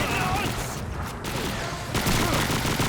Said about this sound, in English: you're seeing the PPSH-41 firing